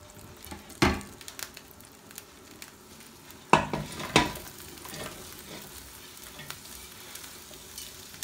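Onions fry and get stirred in a pan, with a soft sizzle running under a few sharp scrapes and clanks from the utensil against the metal.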